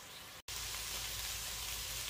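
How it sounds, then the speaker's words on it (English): Pasta sauce cooks down in a pan with a bright, dense sizzle that cuts out briefly near the start and then resumes steadily, close and without talk. "I'm going to let it cook down a little bit longer."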